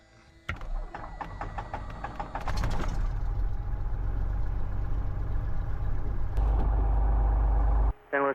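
A Cessna 172 aircraft engine cranks with rapid pulses, catches after a few seconds and settles into a loud, steady, close-up idle drone that runs nearly continuously to the end.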